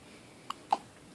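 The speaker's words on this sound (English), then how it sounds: "You got the hiccups?" A baby hiccups twice in quick succession, two short, soft, close-up catches of breath over a quiet background, followed by a faint small sound.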